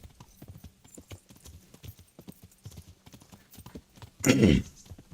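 Armored horse hooves clip-clop in a steady, moderately close trot in Kingdom Come: Deliverance, then a loud snort or whinny bursts out briefly near the end.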